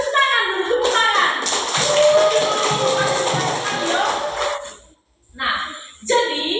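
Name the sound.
class of children clapping hands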